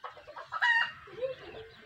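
A crested myna imitating a chicken, giving short clucking and squawking calls up close, one higher screechy note in the middle.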